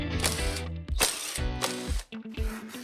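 A ratchet wrench undoes the four bolts that hold a shell to its frame, with loud, close rapid clicking bursts separated by short pauses, and nobody speaks.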